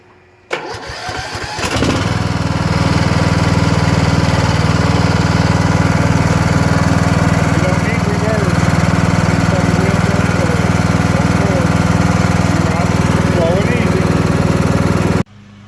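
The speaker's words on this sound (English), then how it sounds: "Crisp sounding machine, no taps, no knocks, no ticks. Runs flawlessly." A Troy-Bilt riding mower with a Kohler Courage engine cranks and catches, then runs loud and close with a steady, smooth drone, while a voice talks faintly underneath.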